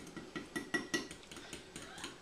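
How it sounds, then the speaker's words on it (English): A fork clinks against a bowl while stirring protein pancake batter with cinnamon, protein powder and oat flour, giving a string of light, irregular metallic taps close by, with no talking. "Mix it up with a fork."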